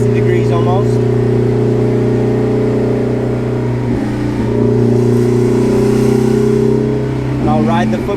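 Turbocharged K-swapped Honda Civic engine held under load during a tuning session, a loud steady drone with layered harmonics that dips briefly midway and then climbs again, with a person talking over it.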